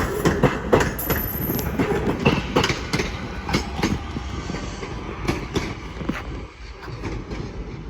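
Class 323 electric train on a Northern service to Manchester Piccadilly passing at Crewe, close and steady with rhythmic clickety-clack of wheels over rail joints and a continuous rumble throughout.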